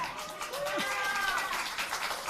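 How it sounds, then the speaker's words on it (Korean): Audience applause at a political party real estate task force meeting in Gyeonggi Province, a short burst of steady clapping with faint voices and a brief vocal exclamation mixed in. "박수"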